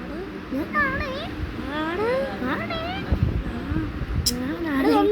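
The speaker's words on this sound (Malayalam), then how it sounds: "പൂച്ചേ." A cat meows several times in wavering, drawn-out cries, mixed with a voice talking nearby.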